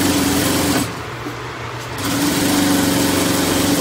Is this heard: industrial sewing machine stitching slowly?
yes